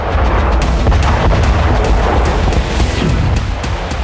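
Loud, rumbling blasts from Javelin missile strikes on Russian positions in Bakhmut crowd together in a dense, continuous barrage, with sharp cracks and repeated booms overlapping throughout.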